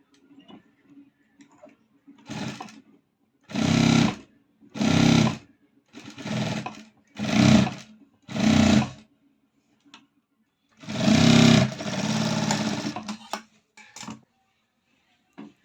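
A sewing machine stitches a blouse seam in a series of short, loud bursts of whirring, each a second or so long and separated by quiet pauses, with a final longer run near the end.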